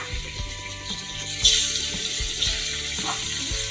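Chicken pieces dropped into hot oil in a frying pan, giving a steady crackling sizzle with a brief louder burst as pieces hit the oil, close and continuous.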